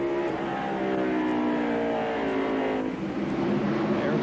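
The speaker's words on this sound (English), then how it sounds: "There's Earnhardt in the car number 3" NASCAR race cars roar around the North Wilkesboro short track during the 1994 Tyson Holly Farms 400, a dense, continuous engine drone with rising and falling revs as cars pass, under faint commentary.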